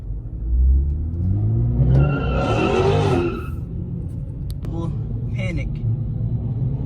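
Cars rev their engines and spin their tires doing burnouts at a crowded car meet, with a loud revving surge in the middle and rumbling tire noise throughout, under excited voices.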